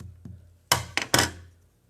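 Scissors tap paper down on a work surface as dull knocks: one faint tap, then three louder, quick thuds close together, with no talk.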